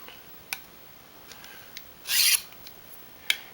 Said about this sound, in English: That's the only way I can explain how to sharpen up a knife, is just by watching me do it.